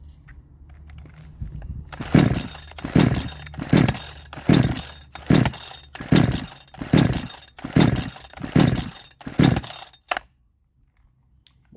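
A 62cc Chinese chainsaw is pulled repeatedly to start, about a dozen loud rhythmic rope-pull bursts of sputtering engine turnover that never catch, ending in silence.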